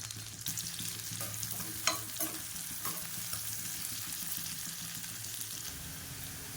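Medium-sized onions frying in hot oil in a pan for a chicken gravy give a steady soft sizzle, with an occasional scrape and clatter of stirring nearby.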